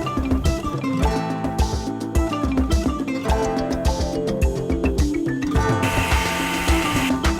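An electric mixer-grinder whirs loudly in rhythmic bursts chopping minced chicken, its whining pitch rising and falling as the blades chop.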